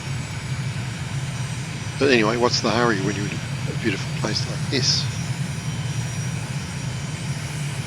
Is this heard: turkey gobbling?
no